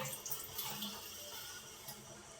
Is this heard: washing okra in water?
yes